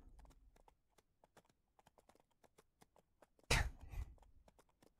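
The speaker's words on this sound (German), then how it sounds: "Noch ein abendlicher Ausritt." Horse hooves clip-clop through an evening ride in the video game Ranch Simulator. Quiet clicks tap in a loose rhythm, with one louder burst of noise in the middle.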